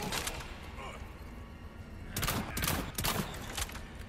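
Bursts of gunfire in the Resident Evil 4 video game, a steady crackle of shots with two louder clusters later on, mixed with voices talking.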